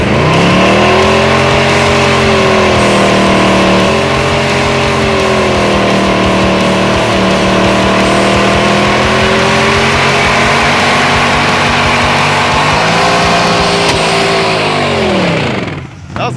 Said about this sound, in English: Or we could do more burnouts.